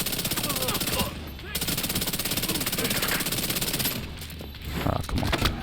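Rapid automatic gunfire from the Chatterbox submachine gun in The Division 2, sustained bursts with a brief pause near the middle, loud and close.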